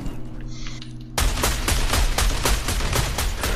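After a quieter opening, a Fortnite gun opens fire, releasing a rapid run of loud, evenly spaced shots like a sustained burst that keeps going to the end.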